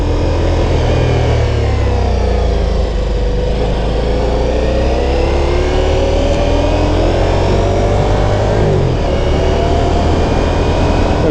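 Ducati Diavel V4 motorcycle pulling away as the clutch is let out, a loud continuous engine note rising and falling in pitch with rumbling wind and road noise, no voices.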